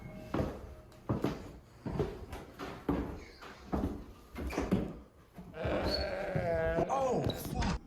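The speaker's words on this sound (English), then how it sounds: "We got a goat on the front porch now." A goat on a front porch bleats several times in the distance, with short wavering cries heard between bursts of loud talk and laughter and a longer, quavering cry near the end.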